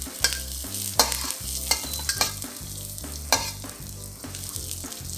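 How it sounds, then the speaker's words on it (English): Ginger and garlic stir-fried in hot oil in a pan: a continuous sizzle broken by repeated scraping and clanking of a spatula against the pan, close and moderately loud, with a rhythmic low background beat and no talking. "Then, add in the aromatics. That's the ginger and the garlic."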